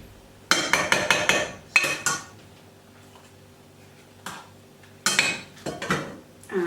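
Quinoa being poured into a pot of water for a salad bowl gives several close clattering bursts of grains and metal pot knocks, separated by quiet gaps.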